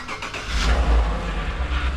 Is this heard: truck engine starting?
yes